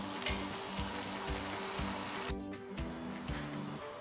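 Green beans and potatoes fry in ghee over a medium flame, giving a soft continuous sizzle under a steady rhythmic musical backing.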